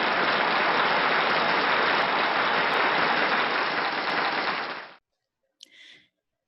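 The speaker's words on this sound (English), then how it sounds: "give Carla another round of applause." Dense, even clapping from a classroom audience thanking a guest named Carla, loud and continuous for about five seconds before cutting off abruptly, followed by a brief faint sound.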